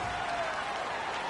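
Stadium crowd at a 2002 NFL football game between the Buccaneers and Colts, a dense steady roar of cheering and applause filling the space.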